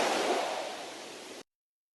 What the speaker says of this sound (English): The waves grew very high.